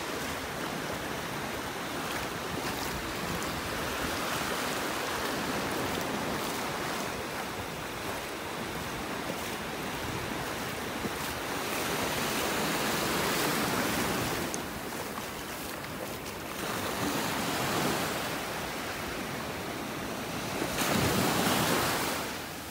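Ocean waves wash in knee-deep shallows on a beach in North Naples, Florida, a constant broad surf roar with louder swells breaking every few seconds, heavy wind buffeting the microphone, no voices.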